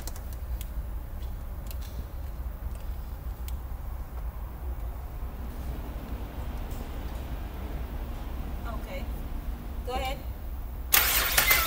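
A car starter motor cranks the engine during a voltage drop test, a low, steady churning drone that runs on for several seconds before a sharper burst near the end.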